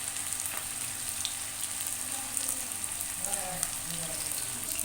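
Fish fries in plenty of ghee on a tawa with a dense, even sizzle and fine popping that runs throughout, while a voice talks faintly underneath.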